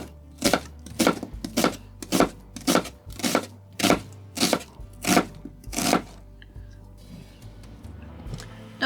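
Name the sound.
chopping peeled potato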